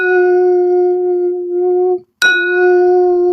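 Smooth stones placed on the face during a facial ring with a steady, sustained tone, then a sharp clink breaks it before the ringing resumes, loud and close with no talking.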